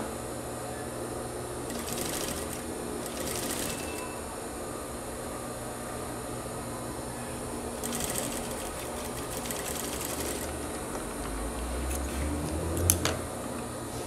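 A sewing machine stitches a shirt collar reinforced with interfacing, running in several short bursts of rapid mechanical whirring with pauses between, close and steady against a quiet room.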